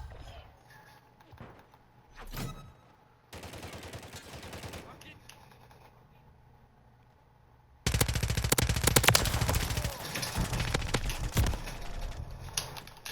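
Gunfire in Modern Warfare III, bursts of rapid automatic shots and single cracks from a pistol and other weapons, loud and close, with gaps of quieter game sound between volleys.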